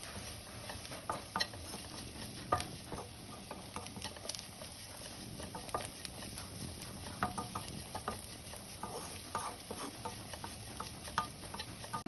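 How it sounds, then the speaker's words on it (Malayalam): Coriander powder is stirred into a simmering beef curry, making a continuous close pattering and scraping with a low sizzle underneath and frequent small ticks from the spoon against the pot. "ഒരു മല്ലിപ്പൊടി ഇത്രയും ചേർത്ത് നല്ലതുപോലെ ഒന്നും കൂടെ ഇളക്കി"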